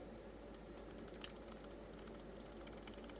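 Rapid bursts of crisp mouse-style clicks from a strategy-gaming controller's buttons are pressed close up, starting sparse and then quickening into dense chattering runs over a faint background hum.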